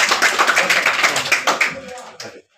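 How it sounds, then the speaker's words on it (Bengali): Students in a grammar classroom clap for a classmate, a quick run of steady, fairly even claps with a faint voice among them, fading out sharply after about two seconds. "সমাজের জন্য তালি দাও"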